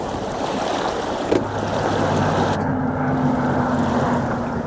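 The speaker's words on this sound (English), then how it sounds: "We are sailing." A sailboat moves through a breeze off the west coast of Scotland, with steady wind rushing against the microphone, water washing along the hull and a low hum underneath, loud and continuous, with no voices.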